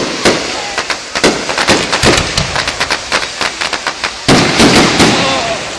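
Fireworks bursting at the Nowra Show, an agricultural fair, with rapid loud crackling pops and booms in irregular clusters, a denser barrage near the end, heard fairly close and with no talk.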